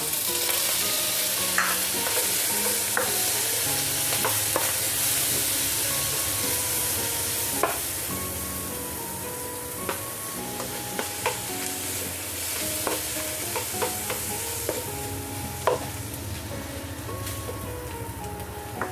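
Two tomatoes are added to a frying pan with egg and kangkong ingredients and stirred, giving a steady close sizzle with scattered scraping and clinking stir strokes, and no talking.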